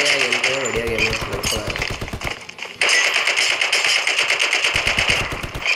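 Rapid automatic gunfire in the Indus battle royale mobile game, loud sustained bursts of closely spaced shots with a brief pause midway, then firing resumes.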